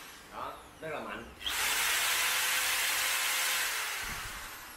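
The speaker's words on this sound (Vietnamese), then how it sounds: "thì bây giờ mình sẽ đang chuyển qua cái chế độ khoan thường" A cheap power drill in normal drilling mode starts up and runs steadily with a loud, continuous whine, after a few brief bursts of motor noise, and then holds at full speed.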